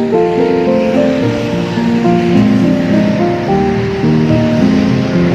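Rough surf on Da Nang beach, stirred up by strong wind, produces a steady, loud roar of breaking waves that fills the whole stretch without pause, with a faint tonal hum running underneath.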